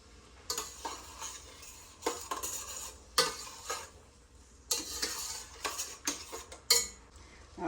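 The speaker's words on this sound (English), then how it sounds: "I'm going to let these mushrooms cook until some of that liquid evaporates" Mushrooms cooking in a pan for green bean casserole, with a utensil stirring and scraping in repeated short bursts over a soft background sizzle, close and moderately loud, no talking.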